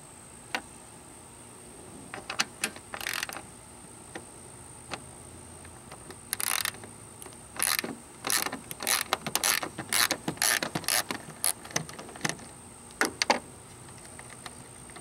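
Removing an 8mm bolt from a Ford Taurus headlight assembly: close, quiet ratchet clicks come in short bursts, with pauses between runs of rapid clicking.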